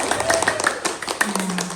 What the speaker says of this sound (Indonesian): Tepuk tangan dulu Bapak Ibu.